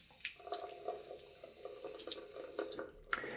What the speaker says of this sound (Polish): takie spłukiwanie maszynki nie zużywa wcale więcej wody, niż gdybyśmy nalali do umywalki